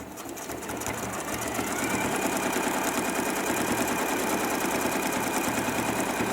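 A sewing machine stitches bleachwork in a fast, even, continuous whir with a rhythmic mechanical chatter that holds steady from start to finish.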